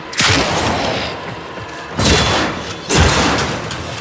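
Three loud, booming gunshots in the video game Warframe, fired at an alerted enemy, with each blast followed by a decaying rumble.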